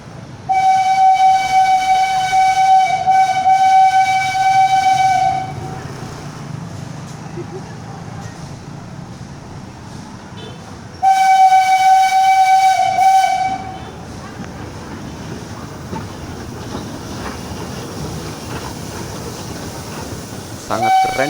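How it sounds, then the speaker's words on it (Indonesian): A German steam locomotive built in 1921 passing through the city of Solo, its steam whistle shrieking in two long blasts over the rumble and hiss of the rolling train, loud and close. "Om Bram berhasil mendokumentasikan kereta saat melewati jalur di depan PGS"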